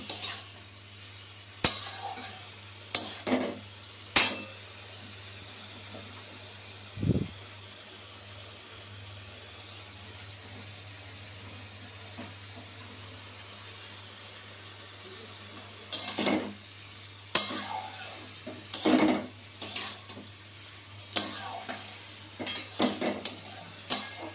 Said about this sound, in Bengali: লাউটা সেদ্ধ হয়েছে কিনা দেখে নেব, দেখে নেড়ে দেব।